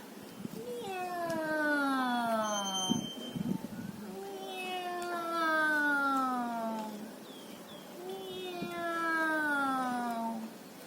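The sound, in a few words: people imitating a cat's meow during a yoga pose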